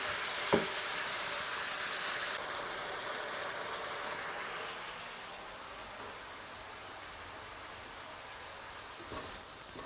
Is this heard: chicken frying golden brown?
yes